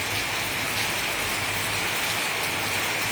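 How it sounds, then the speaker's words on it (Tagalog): Steady rain falling on surfaces outdoors, a dense continuous hiss at even loudness with no voices. "Nag-ulan diri sa amo."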